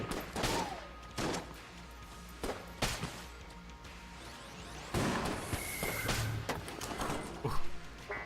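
Gunfire from weapons in the video game Enter the Gungeon, with repeated sharp bursts and volleys of shots spread across the stretch, some loud and close, between quieter gaps.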